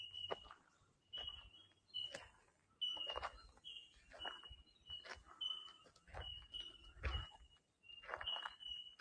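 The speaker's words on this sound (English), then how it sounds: "Another bird joins the chorus" A bird sings in repeated bright phrases over a constant backdrop of insect trilling in the forest at Glenrock State Recreation Area, with no voices.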